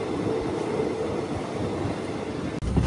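A passenger train bound for Madurai rolls in on the Rameswaram line, a loud, close rumble of wheels and carriages with a brief dip before the noise surges back.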